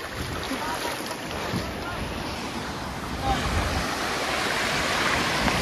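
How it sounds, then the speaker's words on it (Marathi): Sea waves roll onto the beach at Divyagar on the Konkan coast, a continuous roar of surf swelling slightly toward the end, with wind buffeting the microphone. "हा लाटा आले ना भाई."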